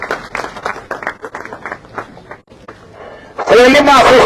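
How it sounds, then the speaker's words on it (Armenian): A crowd bursts into loud applause at a political rally in Masis, Armenia, erupting suddenly after a stretch of someone speaking. "ծափերը ողջուն են մեր սիրելի հայրենակիցների"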